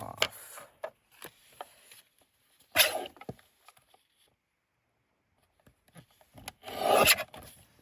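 Paper being trimmed for a Halloween mini journal, with soft scattered snips, rubbing and paper rustles close by, a few louder crinkles, and a quiet pause in the middle.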